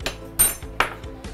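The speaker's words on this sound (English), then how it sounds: "Let me clear my plates." Several sharp ceramic clinks and knocks of plates being stacked and cleared, four or five distinct hits in quick succession, close and fairly loud.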